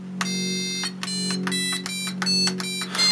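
A homemade synthesizer plays a bright, buzzy tone in a series of held notes, with short gaps and a few pitch changes, over a steady low hum, close and fairly loud with no talking.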